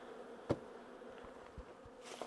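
Honey bees buzz around an opened hive during a late-season harvest, a faint scattered hum with a few brief knocks and thumps close by, no voices.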